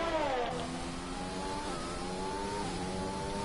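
A Formula 1 race car in a video game, a McLaren among them, revs through rising and falling engine tones as it shifts gears, a steady mid-level whine that carries on without talk.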